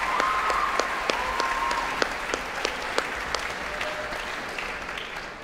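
Gala concert audience applauding a choir, steady moderate clapping with a few sharper individual claps standing out, continuing evenly to the end.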